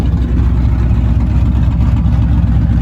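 A loud, close truck engine idling with a low, choppy, uneven exhaust rumble through Magnaflow exhaust with cutouts, steady throughout with no talking.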